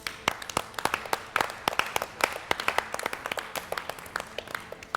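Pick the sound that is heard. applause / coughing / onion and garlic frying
applause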